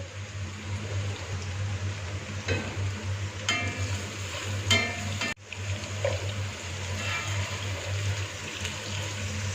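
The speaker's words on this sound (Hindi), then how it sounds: "जब तक प्याज ट्रांसपेरेंट नहीं हो जाता, लाइट पिंक नहीं हो जाता, उस वक्त तक इसको हम सौते करेंगे" Onions sauté with ginger garlic paste in a pot, giving a soft, steady sizzle under a low hum, with a few faint clinks and one sudden cut partway through.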